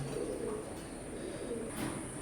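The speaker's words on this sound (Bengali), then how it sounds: "কবুতরগুলো খুবই ভয় পাচ্ছে" Soft, low coos of Teddy pigeon chicks murmur on and off over a steady background hiss.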